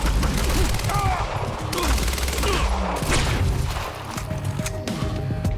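Gunfire in the video game Quantum Break, sniper shots among dense bursts of firing and impacts, loud and continuous throughout with some voice activity mixed in.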